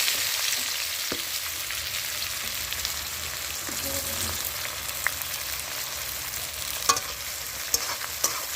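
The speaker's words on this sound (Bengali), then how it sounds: "দেখো পেঁয়াজগুলো তেলের ওপর দিলাম" Chopped onions hit hot oil after potatoes were fried, for chicken kosha, making a steady close sizzle with occasional small pops and spoon scrapes.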